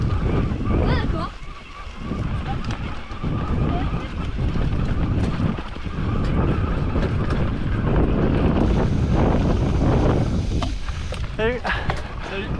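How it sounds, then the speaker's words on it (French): Strong gusting wind buffeting the microphone with rain during an eBike ride, a steady loud roar filling the whole clip, close and harsh, with a voice speaking over it. "il pleut à saut, il y a un vent de bâtard"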